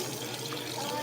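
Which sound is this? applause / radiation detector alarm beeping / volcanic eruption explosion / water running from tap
water running from tap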